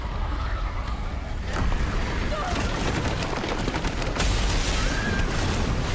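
Rapid gunfire from Resident Evil Requiem crackles in dense bursts over a loud, noisy game soundscape, with sharp cracks near the middle and end.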